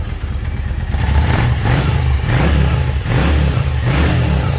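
A 2009 Yamaha V-Star 650 Classic cruiser engine runs steadily and revs in repeated rising swells, a loud, close, continuous low rumble with no voices over it.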